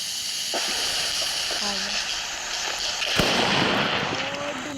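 One loud sharp firecracker bang over a constant hissing background, with a brief fizz and crackle after the burst.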